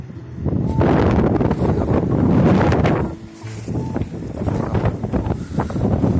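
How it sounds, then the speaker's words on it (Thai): Strong wind buffets the microphone on a mountaintop at Khao Kradong in Buriram, a loud continuous roar with gusts that ease briefly midway before building again. "วันนี้ลมแรงมากเลยครับ นี่ลมแรงมากเลย"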